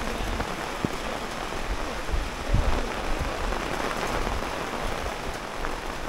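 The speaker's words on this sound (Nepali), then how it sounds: "अचानक पानी परेर चाहिँ यहाँ ग्राउन्ड पनि भिज्नु सुरु भइसक्यो" Sudden rain falls steadily on a football ground at a Darjeeling tea estate, a dense, even patter of drops with no voices and a few slightly louder splashes.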